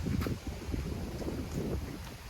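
Wind gusting across the microphone at a mountain viewpoint, a steady low rumbling buffet with a few stronger bursts and no voices.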